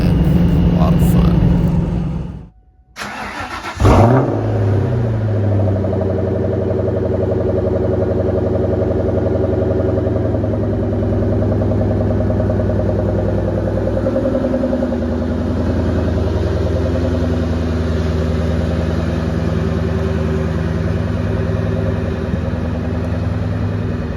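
A blue Ford Mustang Mach 1 on a drive, its engine droning steadily up close after a brief silent gap, with a speaking voice over the continuous mechanical hum.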